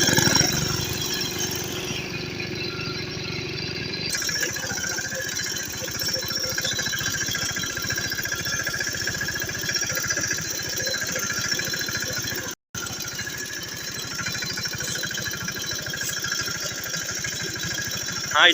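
A farm tractor runs along a dirt road to the fields, its engine chugging steadily and loudly up close with a rhythmic mechanical drone, briefly cutting out once.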